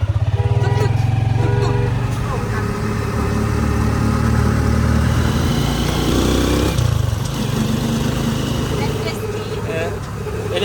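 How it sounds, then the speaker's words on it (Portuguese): A small motor rickshaw engine drones loudly and continuously while riding, with rattling and road noise throughout. "E agora vamos pegar um tuk-tuk"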